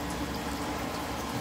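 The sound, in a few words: pouring liquid into mixing bowl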